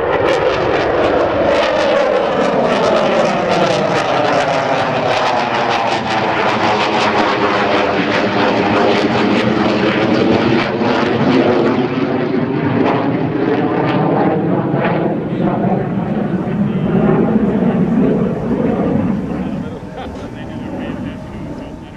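US Navy Tailhook Legacy flight jets, including an F/A-18F Super Hornet, roar past at the 2009 Dover AFB airshow with a loud sweeping engine drone that shifts in pitch, fading at the end while an announcer talks over it.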